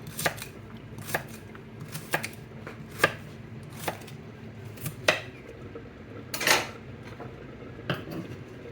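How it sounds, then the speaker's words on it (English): A knife chops carrots into thin pieces on a cutting board, with sharp, close-up knocks arriving in an irregular rhythm about once a second and no talking. "You want to cut the carrots a little thinner."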